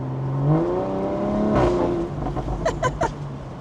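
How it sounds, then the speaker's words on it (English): A BMW G14 840i with aftermarket catback, downpipe and Stage 2 tune, roof down, revs up with a rising, throaty exhaust note through open valves, then several sharp pops and crackles burst from the exhaust as it backs off. "you can of course hear the exhaust even better"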